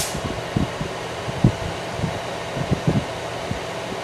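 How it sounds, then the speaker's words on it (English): A 12-volt brushless 120 mm pass-through blower fan cooling a LiFePO4 lithium battery bank enclosure runs with a steady, close airy whoosh, with soft knocks and handling bumps over the constant hum. "It's a 12-volt brushless fan, 120 millimeter, and it's switched and voltage adjusted through that step down"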